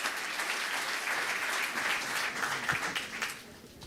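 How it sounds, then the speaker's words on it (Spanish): Conference audience at an Uruguayan agricultural event applauding the panel, a dense sustained wash of clapping that thins out toward the end. "Les pido un aplauso para todos ellos"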